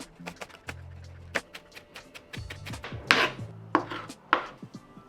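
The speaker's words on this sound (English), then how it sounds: "Let's slice out some green onion. Remove the ends and give it a quick chop." A knife chops trimmed green onion on a board in a quick run of sharp, close knocks, irregular at first and then bunching into denser strikes, with no voices.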